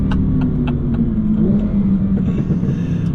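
A 1000-horsepower twin-turbo Audi R8 engine rumbles steadily at close range, a broad continuous drone with slight swells in intensity and no talking.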